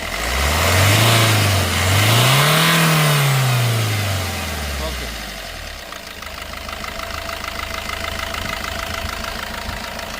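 A Maruti Ciaz diesel car engine revs up twice in rising and falling surges, then settles back into a steady, rattling idle nearby.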